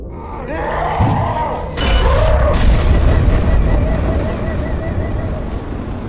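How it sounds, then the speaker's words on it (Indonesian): A loud, deep boom bursts out around the two-second mark and rumbles on heavily, with a harsh crackling blast layered over sustained low roaring. "membuat bazooka itu meledak membunuh tuannya sendiri"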